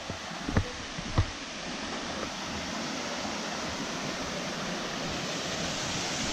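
A waterfall at a campground in Kita-Karuizawa, heard as a steady broadband rushing roar filling the scene, with a couple of brief knocks near the start and no talk.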